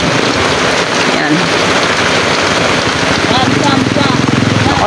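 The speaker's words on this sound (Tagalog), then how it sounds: "Lakas ng ulan." Heavy rain pours down in a dense, constant hiss, loud and close, drumming on surfaces, with people talking underneath.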